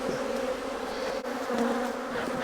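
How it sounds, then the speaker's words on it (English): Honeybees swarming around an open, agitated hive box, a dense continuous buzzing drone heard up close and fairly loud, steady throughout with no voices. "Now look at all those bees right there."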